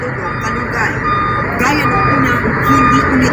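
A truck maneuvers along a Philippine street while repeated reversing beeps sound over continuous road and engine noise, with a person talking nearby.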